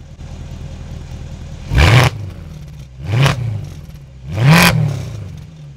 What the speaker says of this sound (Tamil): இப்போ நான் ரிவ் பண்ணுறேன், எப்போ சவுண்டாக இருக்கும் அப்படிங்கிறது மட்டும் கேளுங்க.